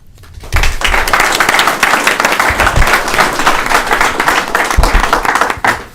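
Audience applause at a UFCW Local 1500 union general membership meeting, a sustained wash of many hands clapping from a large room that starts abruptly, holds steady for about five seconds, then cuts off.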